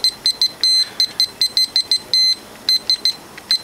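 Rapid high-pitched electronic beeps from a digital meat thermometer alarm in an irregular stuttering pattern, some short, some held longer, close and fairly loud.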